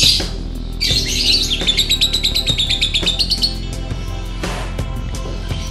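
A white-beaked lovebird chirps in a rapid, rhythmic run of bright, close calls, then falls quieter while a sharp squawk and soft background noise follow.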